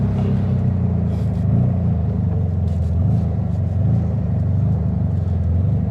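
Volkswagen Beetle engine idling with the idle raised, a loud, steady low rumble that stays even throughout, close up with no talk.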